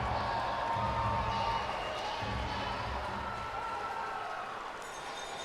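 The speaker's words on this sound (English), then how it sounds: "And what a crowd here today at the Winsport Arena." An arena crowd at the Winsport Arena in Calgary roars and applauds after Canada's gold medal win over the USA at the World Para Ice Hockey Championships, a broad, fairly distant wash of cheering with a commentator talking over it.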